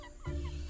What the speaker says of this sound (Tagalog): Pabo. Ang dami nga.